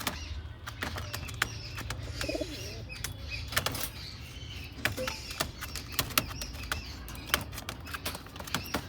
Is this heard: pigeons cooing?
yes